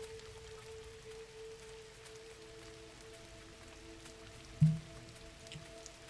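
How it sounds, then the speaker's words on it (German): Soft rain falling in the video game GRIS, a faint even patter beneath a quiet tonal drone, broken by one brief louder tap near the end. "Euch tut Regen sicher auch gut."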